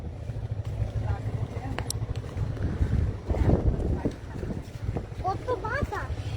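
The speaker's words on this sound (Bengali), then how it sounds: "বাতাস থাকবে না? অনেক বাতাস।" Strong wind buffets the microphone outdoors near river boats, giving a loud, gusty rumble with people talking and voices calling over it.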